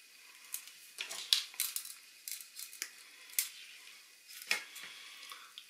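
A thin earth lead wire being snipped to length for a homemade static grass applicator: a series of faint, sharp metallic clicks and snips at irregular intervals, close and quiet, with no talk.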